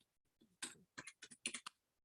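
A password is typed on a computer keyboard, a short burst of about six or seven crisp, close key clicks after a couple of faint taps, with no talking.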